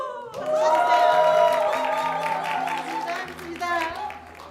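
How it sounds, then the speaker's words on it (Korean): Audience clapping and cheering with whoops at a church Christmas evening celebration, a loud sustained burst mixed with voices. "나를 위해서 소리나는 박수로 우! 쳐주세요"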